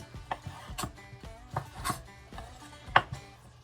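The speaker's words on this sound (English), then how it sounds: "I'm going to cut in slices." Knife slicing roasted poblano peppers on a cutting board, giving a series of soft, irregular close cuts and taps with one sharper knock near the end, no voices.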